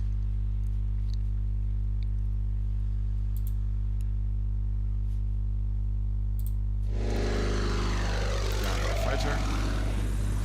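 A propeller plane engine in the Order of Battle WW2 war game swells in after a steady low hum, rising to a loud, rough drone that continues to the end.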